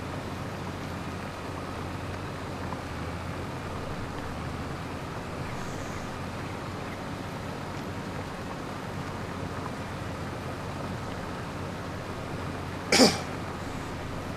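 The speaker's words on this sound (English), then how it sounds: "I have to apologise for the coughing." A single short cough breaks through near the end, over a steady, wind-like background hiss.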